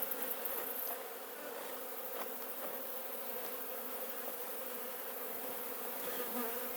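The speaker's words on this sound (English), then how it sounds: "plenty of bees in this one" Bees hum steadily around an open hive in a backyard during a brood inspection, a dense continuous buzz close by with faint scraping and handling noises, no talk.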